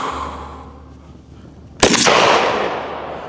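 Desert Eagle pistol fired outdoors toward a distant target: one sharp, loud gunshot after a quiet pause, followed by a long, fading echo.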